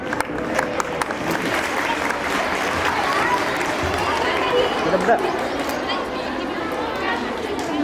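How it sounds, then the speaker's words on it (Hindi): An audience at an intercollegiate college sports fest applauds in a dense, continuous wash of clapping mixed with crowd chatter, loud and steady throughout. "तालियां बजनी चाहिए"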